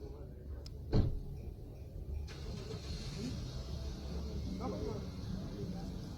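A car is boarded by a woman, with a sharp door thump near the start followed by a steady low engine rumble and street noise, while a voice talks faintly underneath.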